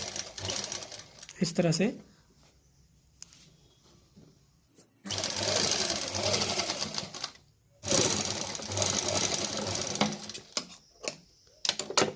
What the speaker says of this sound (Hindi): इस पर डबल सिलाई लगाएंगे और दोनों बाजू अटैच कर लेंगे